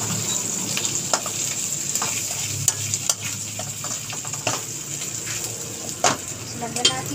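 Sautéed garlic and onion stirred in a hot pan: continuous sizzling with repeated scrapes and taps of the utensil against the pan at uneven intervals, up close and without speech.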